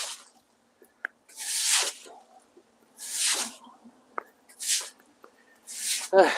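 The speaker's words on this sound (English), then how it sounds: "Oh God, it's all squelchy." Wet squelching on a rain-flooded garage floor: four or five separate close, squishy splashing bursts with quiet gaps between them.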